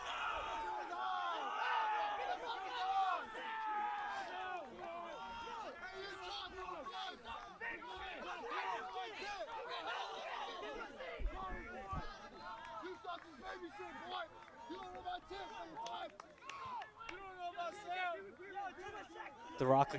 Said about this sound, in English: The Rockland crowd is very strong today's game.